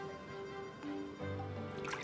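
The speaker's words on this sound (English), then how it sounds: "And you can feel water filling the glass." Water trickling and dripping into a glass, a soft continuous liquid pour that rises toward a brighter gurgle near the end, faint and close against a steady background hum.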